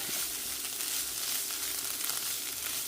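Diced onion and beans fry in a pan with a steady, even sizzle that hisses continuously at low volume without a break.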